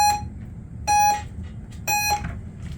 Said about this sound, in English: you gotta wait for the beep